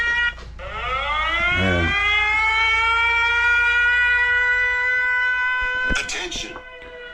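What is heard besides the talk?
air raid civil defense siren in Kherson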